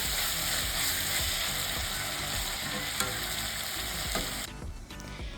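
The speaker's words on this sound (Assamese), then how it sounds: "এয়া মই এইখিনি ধুনিয়াকৈ ভাজি আছো" Vegetables sizzle loudly and steadily in a small amount of oil in a pan while being cooked for pasta, a dense crackling hiss that suddenly quietens near the end.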